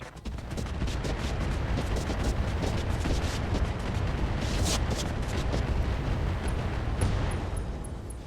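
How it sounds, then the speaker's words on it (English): Heavy mech weapons blast continuously in the turn-based game RogueTech at the Madcap Mark II, a loud, dense barrage of explosive fire and impacts filling the whole stretch with no talk. "We're going to fire on the Madcap Mark II."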